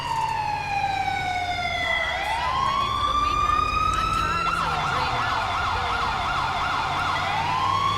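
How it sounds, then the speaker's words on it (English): An ambulance siren in GTA5 modded with LSPDFR: a long descending wail, then a rising tone that switches into a rapid yelp pattern, steady and prominent over low vehicle rumble. "It sounds different in the ambulance."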